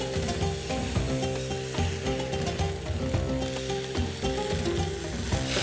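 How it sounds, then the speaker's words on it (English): Beef rump searing in a very hot pan, a loud, close, continuous sizzle and crackle with scraping and stirring noises running throughout, no talking. "So I'm going to start off by searing my rump in a super hot pan."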